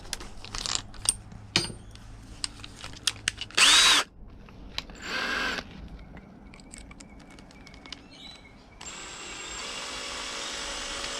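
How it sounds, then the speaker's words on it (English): A power drill whirs in a few short bursts, driving a fitting in, with clicks and taps of handling between them, then a longer steady whine near the end. "Finish it off with a drill."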